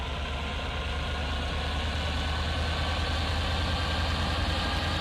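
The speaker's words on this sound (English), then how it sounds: "that diesel sounds so good" Diesel engine idling in a railway setting, a steady low rumble with a constant hum throughout, close and even in level with no talk.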